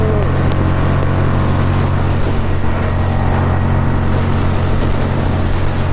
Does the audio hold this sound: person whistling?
no